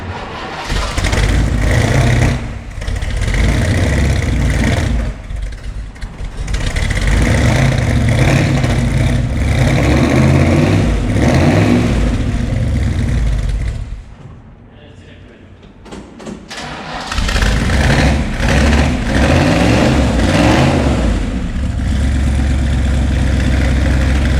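A Ford Falcon coupe engine cold-starts, cranking and catching, then idles roughly and revs loudly in bursts, dropping briefly quiet midway before roaring again.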